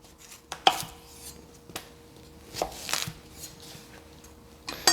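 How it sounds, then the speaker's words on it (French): Knife chopping through a parsnip lengthwise on a board, several sharp close thuds spaced irregularly, with faint kitchen clatter and no voices. "On coupe le panais dans la longueur. Encore une fois."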